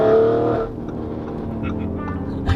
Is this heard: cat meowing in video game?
no